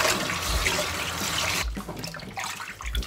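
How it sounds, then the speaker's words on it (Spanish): Tripe being rinsed and stirred in water, a continuous close splashing and running-water wash that breaks off partway, then resumes with softer sloshing. "y vamos a pegarle otro lavadito a nuestros callos. Agüita, removemos bien y lavamos que se queden limpitos y perfectos."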